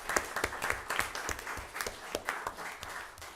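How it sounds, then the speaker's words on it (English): Audience at a public forum applauding, a modest group clapping with distinct individual claps audible in an uneven rhythm, fairly close and tapering slightly toward the end. "Let's give them all a round of applause and thank them for their volunteerism."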